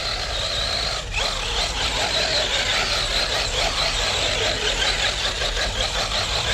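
Motor of an FSR Tank 6s RC monster truck running steadily, a continuous loud whirring hum with a brief dip near the start, no talk over it.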